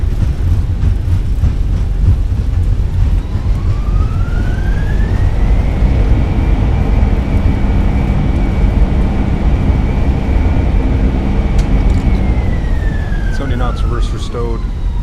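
Loud, sustained engine roar of a Fenix A320 with thrust reversers deployed during landing rollout in Microsoft Flight Simulator, a steady broadband rumble with a rising whine that holds and then fades near the end, a voice talking briefly over it.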